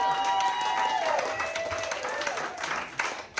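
A comedy club audience applauds for about three seconds, a dense wash of clapping with no voices over it that eases off slightly near the end.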